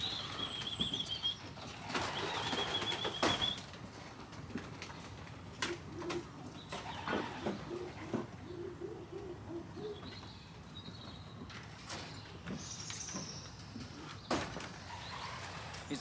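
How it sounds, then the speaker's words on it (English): A handled pigeon, a short-cast bird being checked after vaccination, gives soft intermittent coos and brief wing flutters close by, faint over a quiet background with distant bird calls. "He's a lovely wee pigeon in the hand, he really is."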